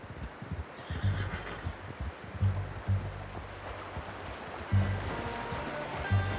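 A horse neighs and whinnies several times in a Red Dead Redemption 2 game soundscape, over a steady wash of flowing water and ambient noise, with no talking.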